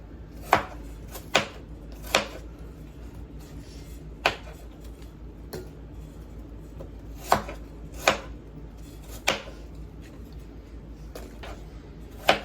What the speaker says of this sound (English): Just cutting it up in some chunks.